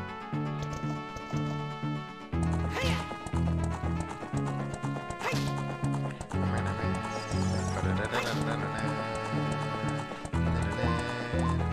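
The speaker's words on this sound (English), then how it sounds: "Where'd my horse go?" Horse hooves clip-clopping with occasional neighs from Zelda: Ocarina of Time, set against continuous game background music, with someone talking over parts of it.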